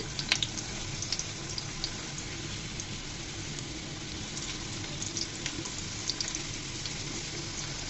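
Potato slices fry in a pan with a steady, close sizzle, broken by a few clattering knocks and scrapes as the pieces are flipped over.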